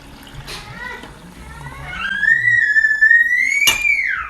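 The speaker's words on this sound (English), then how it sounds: "throw in 3 cups of water" Three cups of water poured into a hot pot of orange Mexican rice (sopa de arroz) on lowered heat, a loud, close rushing pour whose pitch rises as it fills, following a quieter start with faint voices.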